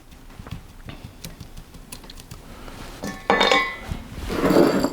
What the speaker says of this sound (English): And then I'm going to sprinkle some more of the sunflower seeds